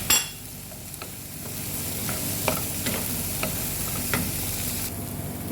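Chicken fries in a pan with turmeric, coriander powder, cumin and pepper, a constant close sizzle with occasional stirring scrapes and clinks over several seconds, no talking.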